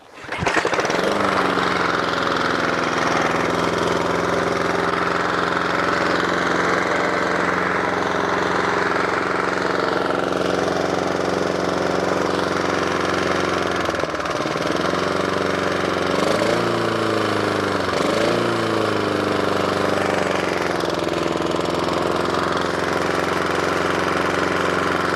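A battered Honda lawn mower engine runs steadily after starting, a loud droning idle with a constant hum and a couple of brief wavers in speed partway through, no voices.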